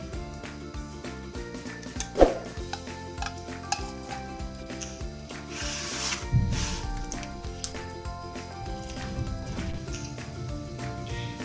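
Fruit chaat and macaroni are stirred together in a bowl with repeated clinks and scrapes of a spoon against the dish, one sharp knock standing out, over faint background music.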